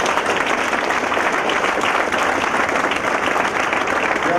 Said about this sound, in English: give a big round of applause for the scientists who have done an extremely great work